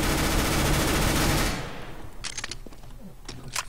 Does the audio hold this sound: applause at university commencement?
no